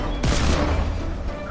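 A sharp burst of hunting rifle gunfire in Fortnite, a loud crack followed by a rumbling tail and a second shot, with a voice faintly underneath.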